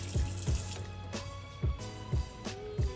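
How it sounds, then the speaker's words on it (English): Water running from a tap while a brush is rinsed under the stream, a steady splashing flow broken by repeated thuds and knocks. "what I usually do is just under a stream of water is just run"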